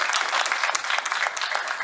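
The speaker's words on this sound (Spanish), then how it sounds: "Aplausos." Audience applause at a rock and trova discussion gathering, steady dense clapping from a crowd at close range, continuous throughout with no voices over it.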